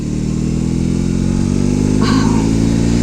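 A BMW motorcycle engine drones loud and steady while riding, a constant close mid-pitched roar with a brief rise near the end and no talk.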